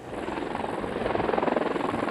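A firefighting helicopter works a wildfire near Lytton, British Columbia, its rotor giving a steady, rhythmic thudding beat over a broad engine whine, fairly close and continuous, with no speech.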